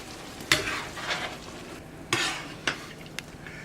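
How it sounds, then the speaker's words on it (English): Vegetables tumble into a pot over browned beef for beef bourguignon, giving a few sharp clattering drops and soft sizzling stirs, close and moderately loud with no talking. "Now we need to put our veggies over our meat in the pot."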